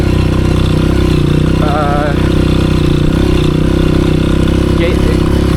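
A Honda CRF 230F dirt bike engine idles loud and close on a mountain trail, its throttle hesitating and bogging slightly, with a person talking over it.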